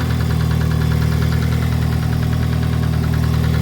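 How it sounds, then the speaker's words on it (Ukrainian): A Daewoo Lanos 1.5 petrol engine idles steadily when hot after new injectors were fitted, giving a continuous low, even hum with a faint rhythmic mechanical ticking above it and no voices. "Машина тепер на гарячу заводиться з півоберту на бензині, вже працює."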